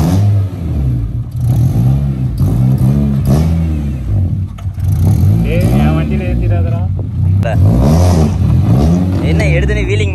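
A Bumble Bee car engine revs while being driven, its pitch rising and falling in repeated loud swells close by, with voices mixed in.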